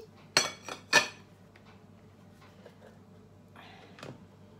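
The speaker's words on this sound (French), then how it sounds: "Je suppose je vais planter le couteau." A few quiet clinks of a small knife poked into cooked cod and potatoes, two clear taps near the start and a faint one later, with low background hum and no talk.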